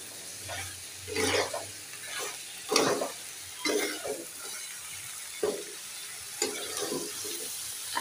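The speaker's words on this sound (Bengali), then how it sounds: "দিয়ে তরকারিটা সুন্দর করে কষিয়ে নিচ্ছি।" A spiced vegetable curry with stalks sautéing in a pan, steady sizzle under repeated scraping stirs at a close, even level, no talk.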